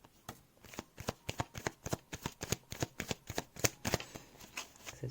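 Tarot cards shuffled by hand in a quiet room, a brisk run of about twenty crisp riffling snaps spread evenly over five seconds, close and clear with no talk.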